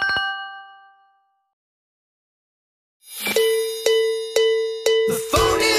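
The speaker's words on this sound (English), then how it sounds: "The phone is ringing." A phone ringtone plays as a bright bell chime that fades out, then after a pause comes back as a series of loud, evenly spaced metallic dings, alone without voices.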